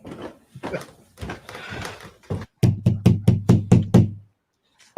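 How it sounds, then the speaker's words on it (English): A door is knocked on repeatedly: voices talk at first, then a firm run of about seven close, evenly spaced raps, followed by quiet. "Just open the door. You don't have to keep knocking."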